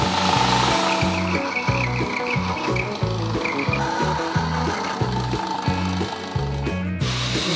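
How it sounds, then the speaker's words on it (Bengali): Milling machine notching a bicycle saddle stay tube, a steady rhythmic cutting chatter with repeating pulses throughout and a faint higher squeal of metal being cut. "এখন স্যাডেল স্টে নচিংয়ের কাজ শুরু হবে।"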